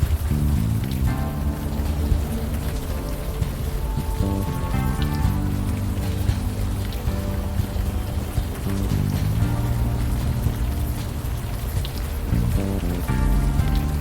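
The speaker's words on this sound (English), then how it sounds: "Still raining." Steady rain falls in the video game Unavowed, a dense even patter mixed with a low musical soundtrack that continues throughout without speech.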